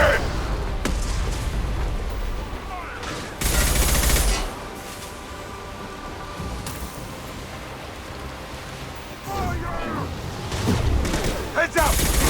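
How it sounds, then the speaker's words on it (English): Impact-shot gunfire in the Mass Effect video game, loud bursts of broadband blasts at roughly three points, mixed with game dialogue and other combat noise. "Firing an impact shot!"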